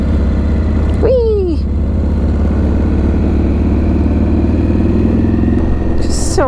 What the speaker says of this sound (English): Just so many bikes, this is so fun.